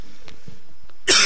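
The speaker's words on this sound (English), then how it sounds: "sorry for that cough there again." A single sharp cough bursts out close to the microphone near the end, after a short quiet stretch with faint background sound.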